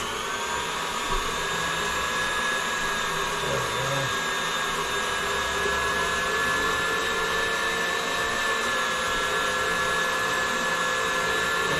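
An electric meat grinder works through frozen meat and fat, giving a constant loud motor whine that never lets up.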